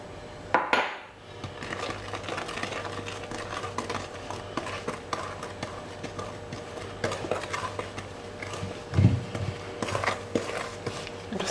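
Sifted flour being stirred a little at a time into stiffening chocolate chip cookie dough in a bowl, making soft irregular scraping and knocking against the bowl, close and fairly quiet, with no talking.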